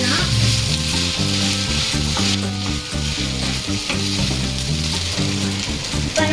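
Noodles with a pinch of salt frying and being tossed in a pan: loud, continuous sizzling with rhythmic scraping and clattering of the utensil, close up and without speech.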